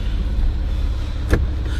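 A Citroen C5 twin turbo 2.7 diesel engine idles steadily and close by, a low continuous rumble with one brief sharper click partway through and no voices.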